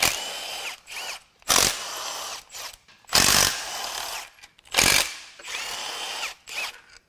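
A power tool whirs in repeated short bursts as it removes the tensioner bracket bolts from a 2017 Fiat 500's failed 1.4 MultiAir engine, close and sharp, with brief pauses between the pulls.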